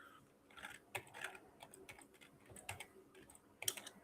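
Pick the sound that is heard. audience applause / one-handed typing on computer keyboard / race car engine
one-handed typing on computer keyboard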